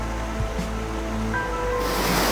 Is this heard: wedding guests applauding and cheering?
no